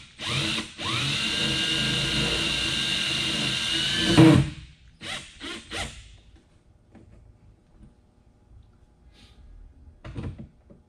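A power drill whirs steadily for a few seconds while drilling a mounting hole for a backup camera on a salt spreader hopper, then stops, followed by scattered clunks and handling knocks.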